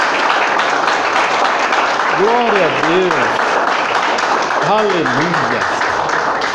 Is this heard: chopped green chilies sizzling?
no